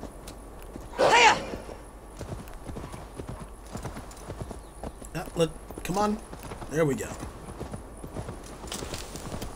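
Horse hooves in Assassin's Creed Valhalla clip-clop at a walk while a person talks briefly, with a few sharp louder bursts breaking through the steady plodding.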